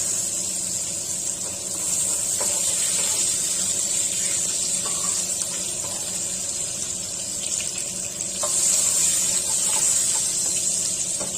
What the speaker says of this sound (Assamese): পটলকিটা ৰং হোৱাকৈ ভাজি ললো লগতে অলপ কোমল হৈ গ'ল